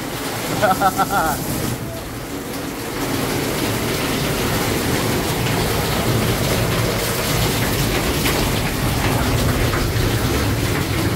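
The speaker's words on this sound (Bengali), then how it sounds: "বৃষ্টির আওয়াজ হইতেছে" Rain falling on a tin roof in a village, a dense continuous roar of steady patter that stays loud and even throughout, with people talking at the start.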